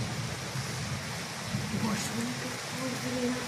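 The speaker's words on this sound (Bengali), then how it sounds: "আর বাইরে কিন্তু তুলকালাম বৃষ্টি হচ্ছে।" Heavy rain pours outside in a steady hissing roar heard from indoors, with a person talking over it in the foreground.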